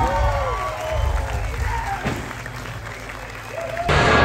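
Large outdoor crowd at a Knotfest show applauding steadily under a continuous wash of background noise, with faint voices mixed in and a louder swell of clapping at the very end.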